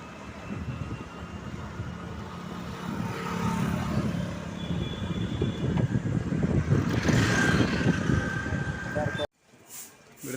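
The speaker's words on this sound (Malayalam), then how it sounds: "വണ്ടി എടുക്കുന്നു" A car pulls away and drives along, its engine and road noise building steadily while people talk inside, then cutting off sharply near the end.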